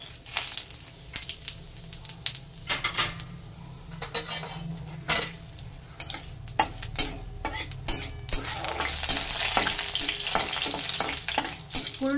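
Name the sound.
whole spices tempering frying in mustard oil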